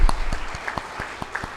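Scattered hand claps from a crowd, uneven and moderately loud, a few sharp individual claps standing out over a soft room murmur.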